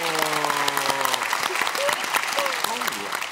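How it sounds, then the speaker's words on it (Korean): Audience applause breaks out for a female student volunteer, a dense wash of clapping throughout with a few voices calling out over it. "용기 내준 여학생에게 박수 한번 쳐주시겠어요?"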